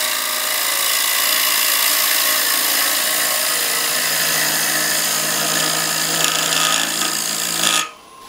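A power carving mill grinds into a wooden bowl with a steady, close, rasping whir that holds evenly for several seconds and then cuts off abruptly near the end.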